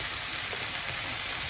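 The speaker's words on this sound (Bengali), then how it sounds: "পেঁয়াজ ভাজাটা হয়ে গেছে, এখন শাকটা ঢেলে দেবো।" Chopped, pre-washed spinach tipped into a pan of fried onions hisses with a steady, dense sizzle that holds close and even throughout.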